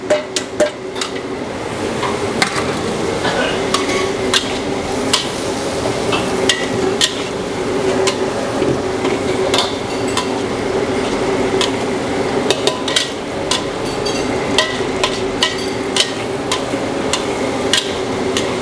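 Onion sizzles in a hot pan alongside browning garlic in a broccoli dish, a steady frying hiss broken by frequent sharp clacks of a utensil against the pan, close and continuous without speech.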